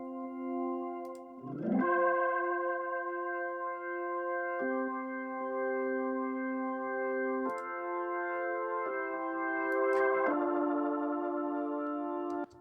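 A Hammond B3 organ run through a Flux Syrah compressor with fast attack and look-ahead holds sustained chords that shift every few seconds at an even, steady level, with no talking.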